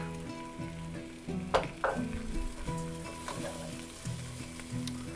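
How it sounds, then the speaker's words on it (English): Garlic sizzling and frying in a hot pan for jambalaya, a steady close crackle with a couple of sharper bursts as it is stirred, alone without talk. "I'm going to add the garlic."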